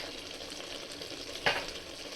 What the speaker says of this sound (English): Now we will saute this for 5 minutes.